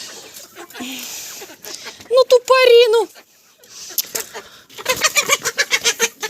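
Chickens, including young roosters, cluck and squawk close by, with one drawn-out crowing call, while someone talks and shoos them.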